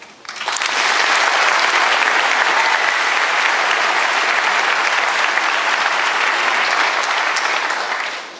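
At a 2011 NSCC graduation ceremony, an audience breaks into loud, sustained applause that swells within a second and holds as an even, full roar of clapping for the whole stretch before easing slightly at the close.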